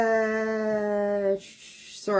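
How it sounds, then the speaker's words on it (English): A dog howls in a long, steady, close tone for over a second, pauses briefly, then starts howling again, loud and alone in a quiet room. "I just saw the dog go by."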